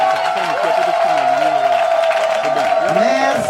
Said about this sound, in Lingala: Ceux qui applaudissent très fort font encore très bien